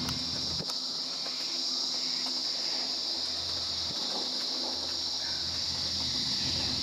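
Crickets chirring in the Kuranda rainforest, a constant high-pitched insect drone filling the air, with faint scattered clicks and no talking.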